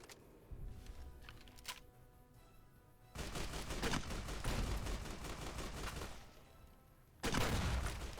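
A grenade rifle fires in Fallout: New Vegas, with sharp shots and loud explosive bursts in clusters, followed by sustained heavy gunfire and a final loud burst near the end.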